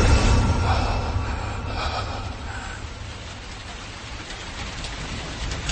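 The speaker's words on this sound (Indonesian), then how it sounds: "Yang ku dengar kini hanya suara derasnya air hujan dari luar." Heavy rain pouring down outside, a dense continuous wash of noise that is loud and even from start to finish, with no voices over it.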